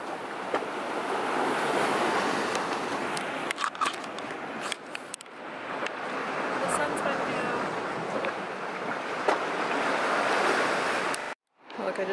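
Sea waves washing onto a beach in Monaco, a steady close rush of surf with wind buffeting the microphone, broken briefly near the end.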